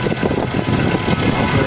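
A 2019 Nissan Navara engine idling smoothly, a steady low rumble held close and loud for a brief moment while a voice speaks a single short word.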